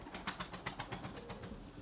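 A white pigeon taking off, with a run of rhythmic wingbeat flaps, fairly faint and close, in open air.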